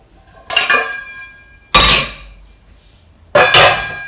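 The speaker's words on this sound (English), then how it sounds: "So I'm going to get a large pan." A large metal pan pulled out and handled in a home kitchen, three sharp clanging knocks of metal on metal, each ringing briefly, loud and close with no talk.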